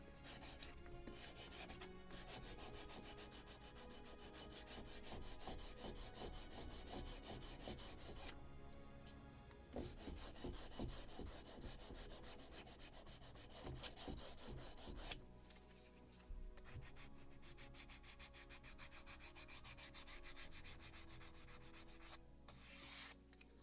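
Steady rubbing and rasping of sandpaper over the wooden deck of a kit-built model of the 1776 gunboat Philadelphia, close and continuous with a few brief pauses, no voices.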